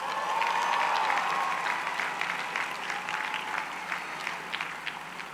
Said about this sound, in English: Please join me in a big round of applause for the musicians and singers from the Morse School of Music.